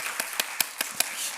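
A church congregation claps to welcome a visitor during a Sunday worship service, about half a dozen crisp hand claps landing in an even, quick rhythm, fairly faint and close together.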